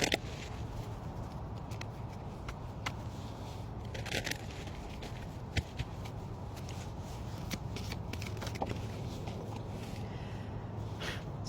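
A deck of Animal Spirit Oracle cards shuffled continuously by hand outdoors under a cucumber tree, a dense soft riffle of cards with occasional sharper snaps, steady and close, with faint background ambience and no speech.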